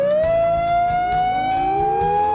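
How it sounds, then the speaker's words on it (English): A loud industrial-site major emergency alarm siren wails steadily upward in pitch, a continuous rising tone with a rhythmic low thumping beneath it. "The major emergency alarm is a wailing siren that sounds like this."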